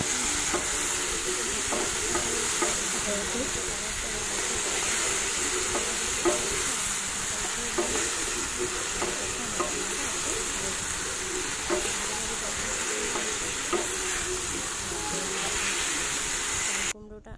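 Ash gourd and prawn curry fries in a pan while the water cooks off, with a steady close sizzle under repeated scraping stirs of a spoon.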